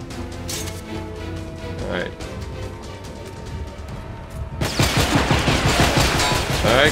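Gunfire in the prison shooter Escape from Butcher Bay, sounding as rapid, dense shots that build into a loud sustained burst near the end, with someone talking over the earlier part.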